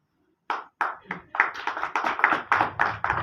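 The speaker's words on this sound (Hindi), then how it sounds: "जोरदार ताली।" An audience applauds at a Ramlila stage performance with a run of sharp, rhythmic bursts of clapping that build in density after a brief silence. Close and fairly loud, with no speech.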